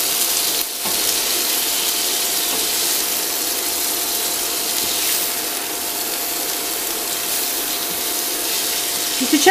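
Steady, even sizzling hiss of cabbage frying in an oiled pan, continuous and fairly close, with no talking over it.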